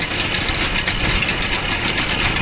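A vehicle engine runs steadily in gear at a farm borewell, holding the same revs to wind up the borewell wire, a loud unbroken rumbling drone.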